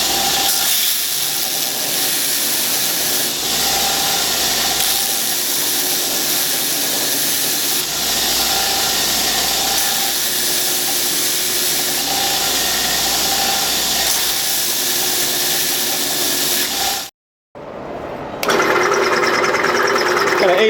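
A belt grinder runs a 60 grit belt against the platen to flatten steel bar stock for a stock-removal knife. It gives a loud, continuous abrasive hiss and whine that cuts out briefly near the end, then starts again.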